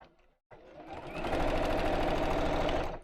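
Sewing machine stitching a seam closed with black thread: a steady, close, fast mechanical whirr running for a few seconds after a brief pause, no voices.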